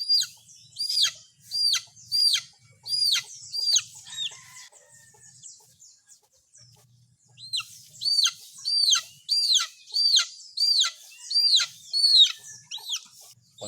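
Young chicks peep in rapid, high-pitched bursts, close and loud, in two busy runs separated by a brief lull, with no talking.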